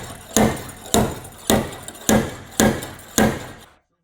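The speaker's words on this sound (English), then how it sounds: "The slide hammer will pull the dented area back to flat." A slide hammer with a pull tab used to pull a dented panel flat gives six sharp, evenly spaced metallic knocks, each ringing briefly before the next, close and clear with no talking.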